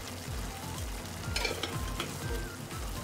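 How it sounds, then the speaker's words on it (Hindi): Spices frying in a pan over a medium flame for mushroom butter masala, a steady close sizzle with a few scraping stirs of a spoon; no talking. "एक से दो मिनट मैं इसे मीडियम फ्लेम में मसालों को भूनूंगी।"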